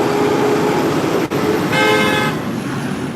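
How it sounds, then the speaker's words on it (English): Garbage truck passing along a busy New York street, a loud steady roar of engine and traffic with a short tonal horn-like blast partway through before the noise eases slightly. "let's make the garbage truck pass through because it's so loud"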